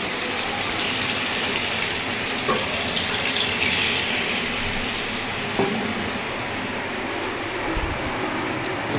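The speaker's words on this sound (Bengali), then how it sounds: "দেখো শিল ধোয়া জলটা দিয়ে দিয়েছি।" Rinse water from a grinding stone poured into a pan of steaming hilsa fish, a steady broad wash of splashing liquid lasting throughout, close and fairly loud with no talk.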